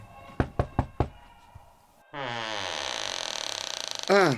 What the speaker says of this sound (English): Let's have a little knock on the door.